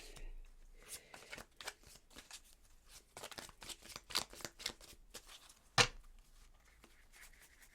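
Tarot cards being shuffled and handled up close, a rapid run of soft papery riffles and flicks with one sharper snap near the end, quiet and alone without talk.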